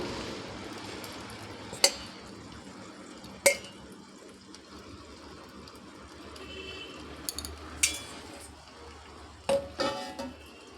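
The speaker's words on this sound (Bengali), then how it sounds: "এবার এই যে ডিমগুলো কেটে রেখেছিলাম এইগুলো আমি বসিয়ে দেব।" Halved boiled eggs set one by one into a cooking pan for an egg and potato dish, giving a few sharp clinks and soft taps against a quiet kitchen background with a faint sizzle.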